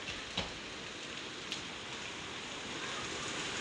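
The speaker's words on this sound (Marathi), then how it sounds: "पावसाचा आवाज तरी येतच असेल तुम्हाला" Steady, dense night rain pouring down on surfaces, an even hiss with a couple of faint drips or taps standing out; no voices.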